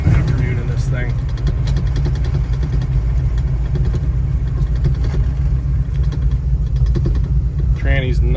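A 1965 Chevrolet Chevelle Malibu coupe with a 454 LS7 big-block V8 rumbles along in a steady, loud, low drone heard from inside the car, while someone talks over it at the start and end.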